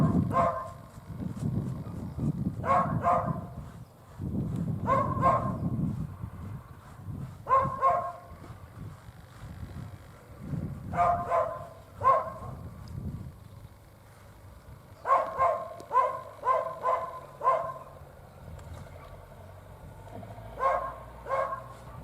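A village dog barks in repeated bursts of several sharp barks separated by pauses, fairly close, with some lower rustling between barks and no talk.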